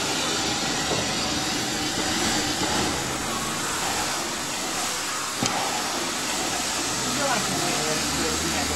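Steam locomotive FNM 200.05 shunts to the front of its train, giving a continuous hiss and mechanical rumble with a brief clank midway, and people talk nearby.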